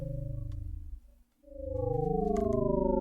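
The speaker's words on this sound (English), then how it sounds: "I would say an old teleporter noise." A space recording of Jupiter's moon Metis that sounds like an old teleporter: pulsing electronic tones that sweep and warble, dip nearly to silence, then swell back with rising and falling pitched whines.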